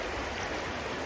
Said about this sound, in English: a beautiful stretch of water